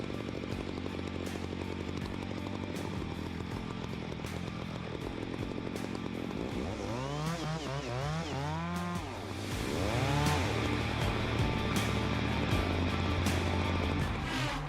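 A Style 46 chainsaw with a 76.5 cc engine cuts through wood, its engine holding a steady, close drone before revving up and down in rising and falling sweeps, then settling into a louder, sustained cutting whine.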